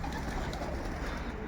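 Young pigeons fly around just under a pigeon loft, making a dense, continuous flutter of wings with soft cooing mixed in, near and steady throughout.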